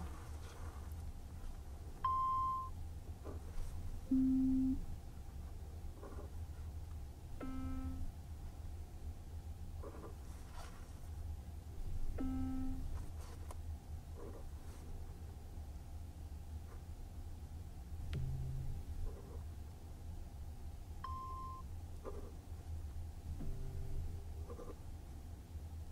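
Hearing-test tones in a realistic medical exam sound as short, isolated pure beeps at varying pitches, spaced several seconds apart over a quiet, faintly hissing background.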